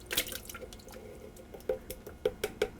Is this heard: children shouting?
no